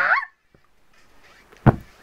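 A person imitates a chicken with a short squawking cluck, followed by a sharp loud burst about a second later; close and brief with quiet between.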